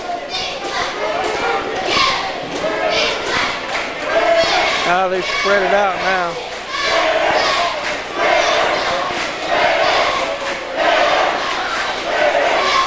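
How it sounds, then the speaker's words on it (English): A crowd at a high school basketball game chants and cheers in a gym, loud rhythmic massed voices rising and falling in waves, with a commentator talking over it. "Trace has got a cheer going right down in front of you."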